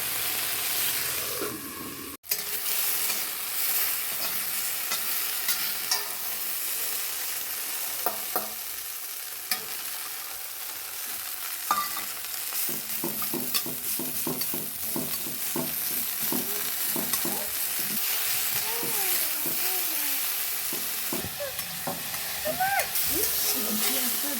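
Okra sizzles in a pan for a long stretch, a steady frying hiss with scraping stirs and clinks, while a person talks intermittently.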